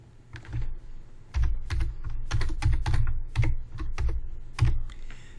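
Fingers type on a computer keyboard to fill in a name field, a close, crisp run of irregular key clacks in short bursts with brief pauses between them.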